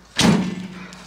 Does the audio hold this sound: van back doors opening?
yes